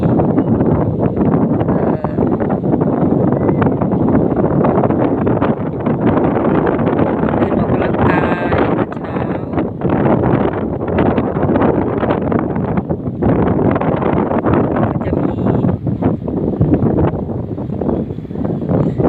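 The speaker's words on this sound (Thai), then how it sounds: "ก็อาจจะลมแรงนิดหน่อยค่ะ" Steady, loud sea wind buffets the microphone for the whole stretch, a dense low roar with rustling gusts and no pauses.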